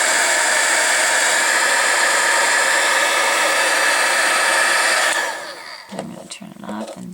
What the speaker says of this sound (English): So if you feel like it's just going a little bit too fast, turn your heat gun off and turn it.